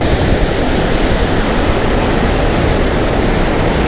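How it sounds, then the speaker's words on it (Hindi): Strong wind and ocean waves at Fort Kochi Beach form a loud, continuous broadband roar with steady wind buffeting and surf wash, no talk audible over it. "फोर्ट कोची बीच पर क्या जबरदस्त हवा चल रही है, मौसम बहुत बढ़िया हो रहा है और सामने आप लहरें भी देखो"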